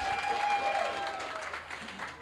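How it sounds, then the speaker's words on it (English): An awards ceremony audience applauding Tatiana Williams, a dense, moderately distant wash of clapping and crowd noise with a faint tone running beneath. "Give her a thunderous round of applause."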